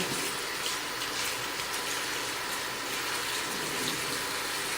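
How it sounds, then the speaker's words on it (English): Water runs steadily over aquarium plant leaves as they are rinsed, a continuous close-up gushing splash. "we're going to rinse off the leaves as well"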